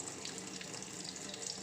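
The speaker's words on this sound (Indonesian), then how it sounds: "ini keran air yang aku beli, ini keran favoritku, ternyata aliran airnya nggak kencang guys" A kitchen faucet with a small outlet hole runs a weak, gentle stream, giving a faint, steady hiss of trickling water throughout with no talking.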